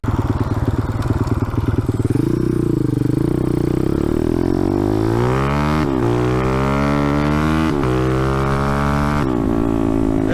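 A car engine, freshly fitted with a swapped and leaned-out carburetor, idles loud and close, then revs and pulls away with rising and falling harmonic engine tones through several gear changes.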